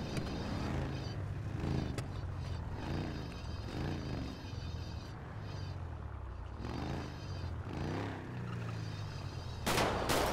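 Gunfire in GTA 5 role-play cracks out in several bursts of shots against a car engine's hum, with a sharp, noisy burst near the end.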